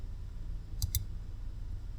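A computer mouse gives two quick, crisp clicks close by, faint against a quiet low hum, with no speech.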